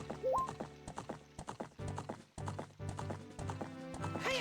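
A horse in Zelda: Ocarina of Time clops along in rhythmic hoofbeats and gives a short whinny, heard fairly quietly over the game's music.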